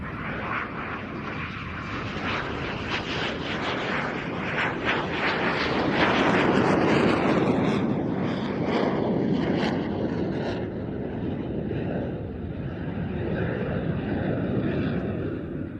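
An MB339 jet roars through a flying display at an air tattoo, a continuous loud engine rush that swells in the middle as it passes nearby, with wind buffeting on the microphone.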